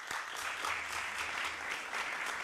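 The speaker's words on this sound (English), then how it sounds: "so let's give him a round of applause." Steady applause from a legislative gathering, many hands clapping in a dense even patter, moderately quiet and continuous throughout.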